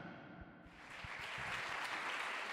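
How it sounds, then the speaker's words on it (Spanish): Church congregation applauding, a soft wash of clapping that swells and holds steady, somewhat distant, with a few louder nearby claps at the start. "Dale un fuerte aplauso al Señor en esta tarde."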